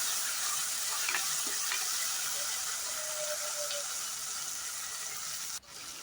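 Tomatoes sautéing in a pan for a sardine fish curry, a soft, steady sizzle with a few faint stirring clicks, fairly quiet and unbroken until a brief dip near the end.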